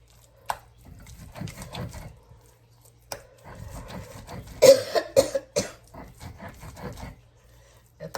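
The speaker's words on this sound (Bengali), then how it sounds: "শুকনা কাশি গো বইন" A few short, harsh dry coughs burst out near the middle, with quiet talking and kitchen sounds before and after.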